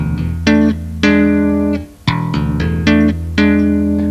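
Electric bass plays a thumb slap on open E, hammer-ons and double-stop hammer-ons in a bright, punchy repeating figure with a brief muted gap midway, close and alone.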